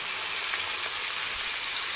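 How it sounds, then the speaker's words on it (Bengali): Fish frying in a pan, nearly done, makes a steady, moderately loud hissing sizzle with faint crackles and no voices. "তো আমার মাছগুলো ভাজা হয়ে এসেছে প্রায়"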